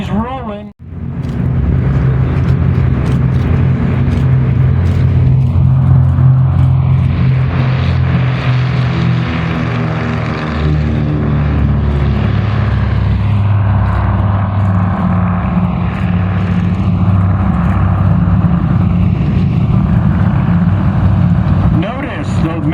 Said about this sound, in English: taking the runway right now, getting ready to go. This will be Diamond Lil. And she's rolling.